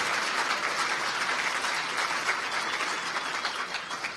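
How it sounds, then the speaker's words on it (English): Conference audience at a hacker convention giving a big round of applause for the security crew, dense continuous clapping from a large room that slowly tapers toward the end. "Can you get a huge round of applause for the security crew guys who have a really rough job?"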